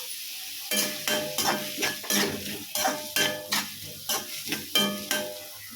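Onions sautéing in a pan for road-side kothu parotta, with a steady sizzle under a rhythmic run of metal spatula scrapes and clanks, about a dozen strokes in a regular beat, close and fairly loud, with no talk.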